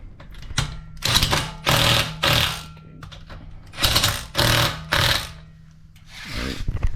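A 3/8-inch impact wrench tightens lug nuts in a crisscross pattern. It fires in several loud, close, rattling hammering bursts separated by short pauses, with a low motor hum between them.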